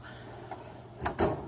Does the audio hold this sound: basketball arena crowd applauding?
no